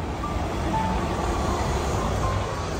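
A steady low rumble of a tram rolling past in a city street in Zurich, Switzerland, continuous and fairly close, with faint squeal tones riding on top.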